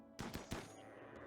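Three quick bursts of gunfire ring out at steady intervals while a Mega Sloth is shot at in the video game Rimworld, then a low lingering rumble follows, with no talk over it.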